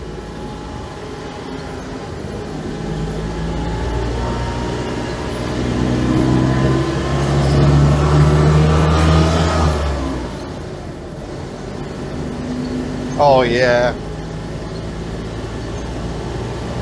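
Tiny Autobianchi Bianchina van with a small noisy engine drones steadily from inside the cabin, rising into a buzzy revving climb before easing off through a gear change; a brief voice is heard near the end.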